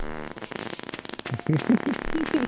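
A fart sound effect goes off on a Stardew Valley stream, a buzzy, fluttering rasp that breaks into a few short squeaky bursts near the end, close and moderately loud with no voices.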